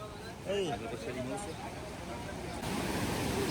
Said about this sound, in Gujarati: આ અલખનંદા નદી અને આ એનો વ્યૂ જોવો તમે